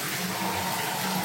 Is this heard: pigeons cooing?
no